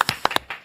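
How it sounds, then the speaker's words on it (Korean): Brief scattered clapping welcoming a guest on a Korean talk show, a few sharp, close hand claps in quick succession rather than a full audience ovation. "먼저 매불쇼 언제나 함께하는 분이죠. 동기 민동기 선임 기자님 박수로 모시겠습니다."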